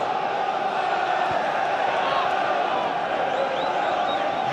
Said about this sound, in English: the Plymouth fans usually create a good atmosphere here